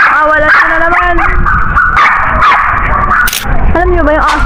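A dog barks and yips repeatedly, close and loud, in agitated bursts across the whole clip, mixed with high whining tones and some rustling noise.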